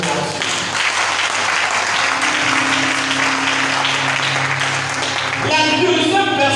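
A church congregation applauding and cheering during a French-language sermon, steady loud clapping filling the whole stretch with voices calling out beneath it.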